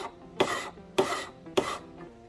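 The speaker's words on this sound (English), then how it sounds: "I'm gonna just be filing with this file on the outside a little bit" A hand file rasping over a workpiece in three evenly spaced, bright strokes, each a short gritty scrape heard close and alone with quiet gaps between.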